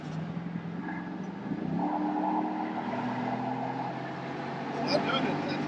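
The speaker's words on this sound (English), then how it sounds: "let's hear this exhaust real quick" A deep supercharged V8 exhaust on a 2021 Ford F-150 truck rumbles steadily as it accelerates, the low drone rising in pitch, with a voice talking over it.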